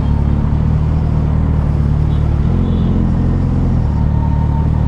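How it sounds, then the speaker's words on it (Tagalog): Heavy road traffic at a busy intersection, a dense continuous rumble of car and motorbike engines with occasional revving, loud and close with no talking. "Kaka-traffic, mabigat yung traffic."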